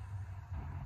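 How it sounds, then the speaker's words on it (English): Freeway traffic heard from inside a Dodge Charger 392 Scat Pack with the window down, a low, continuous rumble of road and engine noise, faint and steady for a brief moment. "Sorry for the background noise. It's the freeway."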